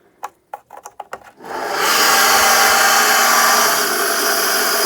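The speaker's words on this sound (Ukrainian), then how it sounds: "Дуже голосний насос, за це він мені не подобається." An old, very loud water pump feeding a greenhouse irrigation system kicks in after a few brief knocks and then drones as a steady, harsh, loud mechanical roar.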